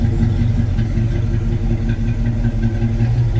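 A classic car engine idles steadily at close range, a low, even rumble that holds constant throughout with no revving.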